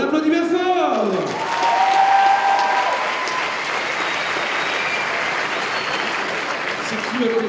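Steady, full applause from a large crowd at a cosplay contest fills the room after an announcer's voice ends, dense clapping sustained and fairly loud throughout.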